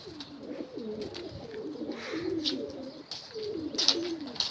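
Pigeons, among them a homing pigeon chick, coo in soft rolling murmurs close by, with a few faint chirps and light rustles throughout.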